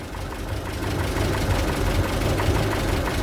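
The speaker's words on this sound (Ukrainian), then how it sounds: "холостим ходом додаємо обороти. О, обороти піднімаються" A car engine running on a second-generation LPG gas system idles with a steady low rumble and knocking pulse, its level creeping up slightly as revs rise.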